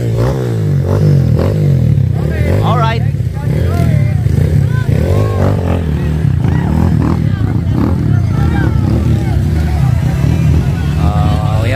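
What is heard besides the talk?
motorcycle engine grinding and scraping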